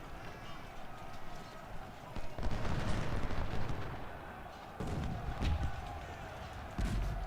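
Canister artillery fire in a Civil War strategy video game, heard as bursts of battle noise, booms and crackle swelling through the middle and again near the end over a constant din of combat.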